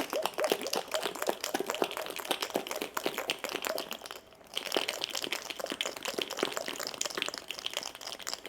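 Coffee and water sloshing and rattling inside a glass mason jar being shaken by hand, a dense, continuous rapid churning that runs close and steady for several seconds with a brief pause midway.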